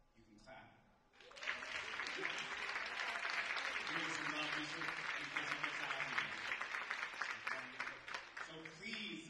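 Loud, sustained audience applause fills a live theater before a performer takes the stage, with a sharp onset after a brief quieter moment and steady dense clapping throughout.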